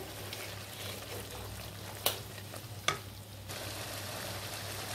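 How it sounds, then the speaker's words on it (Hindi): Masala mixed with ketchup sizzles steadily in a pan, a continuous frying hiss broken by two sharp scrapes of a spoon stirring against the metal, close and with no voices. "अब हम इसमें 3 से 4 टेबलस्पून केचप डाल देंगे। मिक्स कर लेंगे इसे।"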